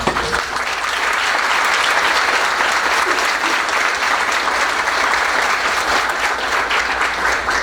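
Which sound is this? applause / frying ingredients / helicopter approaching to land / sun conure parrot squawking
applause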